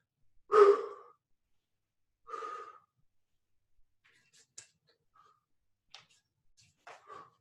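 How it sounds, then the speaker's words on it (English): Heavy, deliberately exaggerated breathing during kettlebell juggling: two strong, close exhalations, followed by faint, scattered breaths and small clicks against an otherwise quiet background. "I might exaggerate my breathing a little bit so you can hear me."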